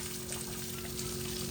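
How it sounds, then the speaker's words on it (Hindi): Water pouring and splashing steadily over a cow to cool it on a hot day in a village, a continuous close gushing wash with no talk. "गाय के ऊपर पानी डाल रहे हैं ठंडा ठंडा"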